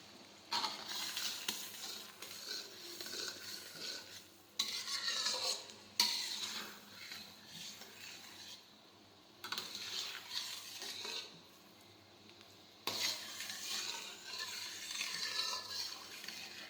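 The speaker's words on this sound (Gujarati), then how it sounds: "ત્યાં સુધી આમ ફેરવતા રહીશું આપણે" A spoon scrapes and swirls through melted sugar syrup for Mandvi Pak, a Gujarati sweet, in a pan. The stirring comes in steady close bursts broken by short pauses, with a soft bubbling underneath and no voices.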